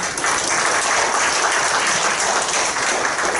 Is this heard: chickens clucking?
no